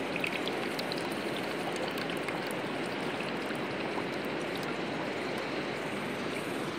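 Water pours and drains steadily from pool cleaning equipment just after vacuuming a newly installed pool, a continuous close splashing trickle with no talk.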